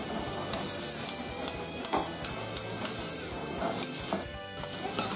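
Monjayaki sizzles and bubbles on a restaurant griddle in Tsukishima, Tokyo, while staff cook it, with a steady close crackle broken by scraping spatula strokes and clinks of metal.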